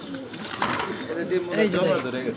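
Pigeons at a breeding spot in a pigeon seller's loft give soft, rolling coos close by, overlapping with someone talking.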